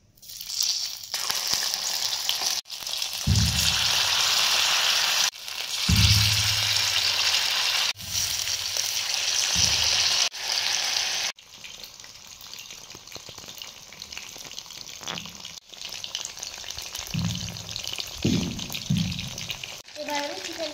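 Chicken pakora pieces drop into hot oil one at a time and set off bright sizzling bursts that settle into a steady crackle. Each new batch brings a fresh surge, and a voice talks quietly over the frying.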